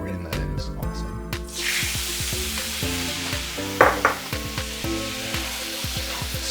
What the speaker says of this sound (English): Let's deglaze with the juice from 1 lime.